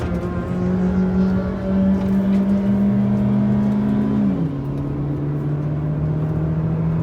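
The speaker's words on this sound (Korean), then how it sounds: "아베오 순정으로 인제 스피디움 서킷을 달려보도록 하겠습니다" Chevrolet Aveo RS with stock tires and brakes lapping the hilly Inje Speedium race circuit, its engine droning loud and steady at high revs, then dropping pitch sharply as it shifts and settles into a lower constant hum.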